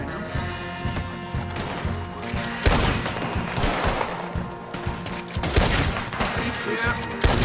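Gunfire from Red Dead Redemption 2 cracks in dense, overlapping bursts, with several louder shots standing out over a busy, continuous layer of game noise.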